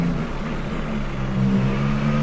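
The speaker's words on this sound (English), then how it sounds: "Even the engine sounds better compared to last year's game." In F1 2018, a Formula 1 racing car engine holds a steady high rev, a continuous buzzing drone with a slight rise in pitch partway through, with nobody speaking.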